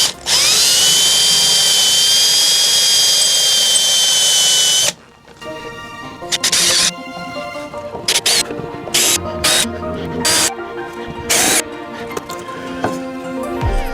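A power drill bores out pop rivets on a Troopy with a loud, continuous whine for about five seconds. Short, repeated drilling bursts follow, separated by brief pauses.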